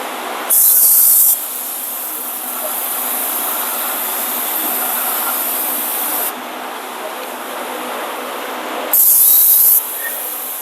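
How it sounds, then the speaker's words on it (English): Brake cleaner sprayed from an aerosol can onto the rear brakes of a Ram 2500 turbo diesel heavy duty truck: two short, loud hissing bursts near the start and end, with a steady mid-level hiss from the can between them. "Spray some brake cleaner."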